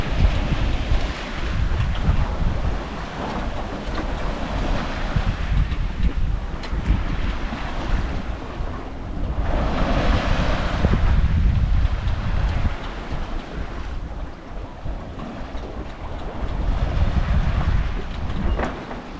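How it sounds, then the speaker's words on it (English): A sailboat runs downwind at sea, with heavy wind buffeting the microphone and waves rushing past the hull in a constant loud roar that swells and eases over nearly twenty seconds. "Downwind sailing."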